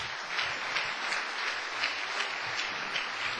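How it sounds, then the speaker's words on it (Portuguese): A church congregation claps steadily, a dense patter of hands from many people in a large room, sustained at an even level throughout. "Quem pode dar uma salva de palmas para o Senhor?"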